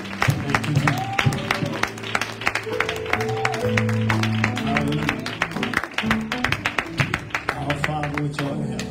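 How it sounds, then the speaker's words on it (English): A church congregation claps in praise during an evening service, with steady rhythmic handclaps mixed with music and voices throughout. "y'all receive him with a hand clap of praise"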